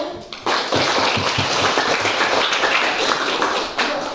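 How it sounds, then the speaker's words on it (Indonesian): A classroom applauds a presenting student group with a dense, sustained burst of clapping that starts abruptly and continues steadily, with no talking over it. "berikan aplaus untuk kelompok 1"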